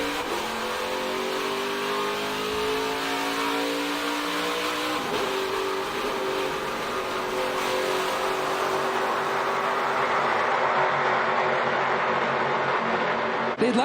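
NASCAR Gander Trucks roar off a restart at Darlington Raceway, a loud, sustained wall of engines revving and climbing in pitch as the field accelerates together, with no talk.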